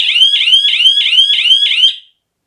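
Siren of a Betty 5.0 airsoft bomb simulator going off after deactivation, a loud, shrill electronic wail repeating in quick rising pulses for about two seconds before cutting off into silence.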